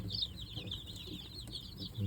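Jersey Giant and dark Cornish meat chickens cluck softly in a homestead flock, a steady murmur of low, overlapping fowl calls close by with no talking.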